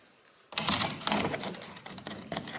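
A fresh sheet of sandpaper strips the body of a Chevelle, starting abruptly after a quiet half-second as loud, close, scratchy strokes in an uneven rubbing rhythm.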